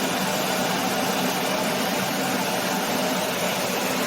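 A 1997 Ford Taurus engine idles steadily at close range, a loud, continuous broadband hum with a low rumble that holds even throughout, with no talking.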